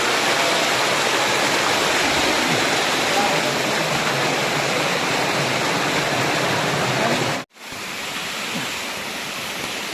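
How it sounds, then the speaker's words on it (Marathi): A large waterfall in dense forest roars with a constant, loud broadband rush that fills the whole span, broken by one brief dropout near the end before the roar resumes just as strong. "कसला मोठा धबधबा आहे. आवाज बघा कसा आला येतोय"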